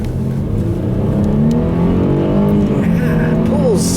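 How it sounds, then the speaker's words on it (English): A 2010 Mercedes-Benz E350 4Matic with a 268-horsepower engine accelerating hard, heard from inside as a steady, rising engine drone with road noise, loud and continuous throughout. "let's see about this acceleration again"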